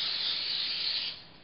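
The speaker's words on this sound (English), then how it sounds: "A little bit of canola spray." A short burst of canola oil cooking spray from an aerosol can, a close steady hiss lasting just over a second before tapering off, with no one talking.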